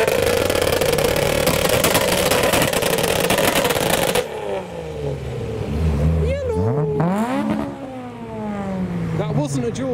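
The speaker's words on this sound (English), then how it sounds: "The chaser's doing some noises. It's doing chaser things." A modified Toyota Chaser at a car meet drones loudly and steadily, then revs up and down in repeated rising and falling sweeps, with people talking nearby.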